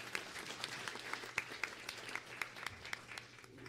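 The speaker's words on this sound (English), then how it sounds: "Round of applause for all these folks." A round of applause at a school board meeting, fairly faint scattered hand clapping with distinct individual claps in a loose, uneven rhythm, lasting a few seconds.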